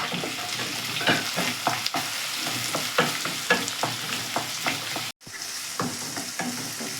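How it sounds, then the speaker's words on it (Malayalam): Finely sliced onions sizzle steadily in a hot pan for beef macaroni, punctuated by regular scraping stirs of a spoon and a brief pause near the end, close and clear with no voices. "ചെറുതായി അറിഞ്ഞ സവാള ഇട്ട് കൊടുക്കാം നമുക്ക് അത് ഇളക്കി കൊടുക്കാം"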